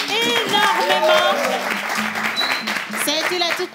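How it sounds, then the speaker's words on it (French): Studio audience applauding during a French television variety show, a steady wash of clapping that fills the whole stretch, with a host's voice and some musical tones mixed in underneath. "qu'on applaudit énormément"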